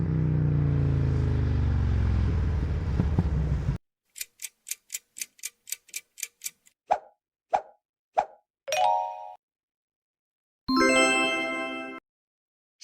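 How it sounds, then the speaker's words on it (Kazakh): A motorcycle engine runs with a steady, buzzing drone for about four seconds. It is followed by a series of cartoonish plops, ticks and bright dings, then a longer chiming tone. "Бұл мотоцикл."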